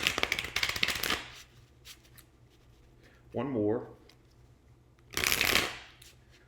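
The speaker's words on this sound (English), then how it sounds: "I feel like I need to do 2 more shuffles" Two bursts of tarot cards being riffled and shuffled, near and crisp, with a short spoken word between them.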